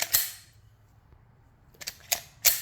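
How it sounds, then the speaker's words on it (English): A Glock pistol clicks as a snap cap dummy round is loaded and the magazine is inserted: one sharp snap, a quiet pause, then three quick metallic clacks close up. "I will pop in the dummy round, insert the mag,"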